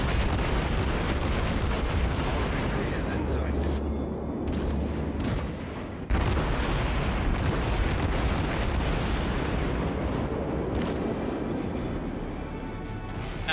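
Heavy ship cannons from a tier II Chester in World of Warships fire, dense booming blasts that roll continuously over a loud rumbling battle bed.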